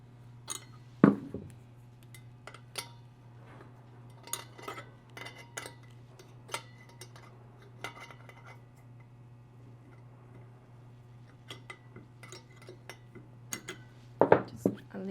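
Small metallic clicks and taps of an open wrench adjusting tuning hardware on a pass-reject duplexer, scattered irregular ticks close by over a steady electrical hum, with a couple of louder knocks, no talking.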